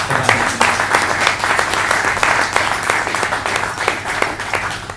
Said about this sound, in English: So you've got to give him another round of applause for that.